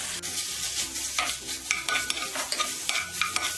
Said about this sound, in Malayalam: ഇനി ഇതെല്ലാം കൂട്ടിയിട്ട് നന്നായിട്ടൊന്ന് ഇളക്കി കൊടുക്കാം.